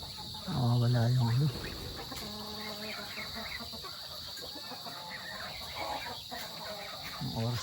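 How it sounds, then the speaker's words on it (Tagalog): Chickens and chicks cluck and peep in a farm pen during rain, with one loud nearby cluck near the start and softer calls throughout over a steady insect-like hiss. "Saka yung mga sisiw na manok."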